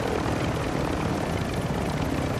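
A helicopter in the Warzone DMZ shooter roars steadily and close, a dense continuous rotor and engine wash filling the whole stretch without letup.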